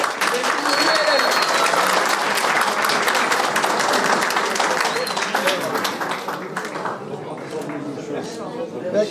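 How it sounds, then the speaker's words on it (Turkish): Lively applause breaks out at an outdoor neighbourhood breakfast gathering, many hands clapping loudly and steadily, with crowd chatter and voices mixed in, then thinning toward the end as talk continues. "Hadi alkış."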